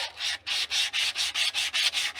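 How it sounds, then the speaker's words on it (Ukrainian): Close, rhythmic rasping strokes of a pruning shears blade rubbed back and forth on sandpaper, about eight even passes in quick succession. "Зараз будемо шліфувати."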